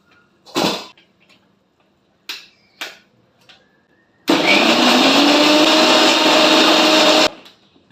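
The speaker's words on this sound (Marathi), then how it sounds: "मिक्सर करून घ्या." A mixer grinder whirs loudly and steadily for about three seconds as it grinds oil, dry coconut, ginger and garlic, then cuts off sharply. A few knocks and clicks come before it starts.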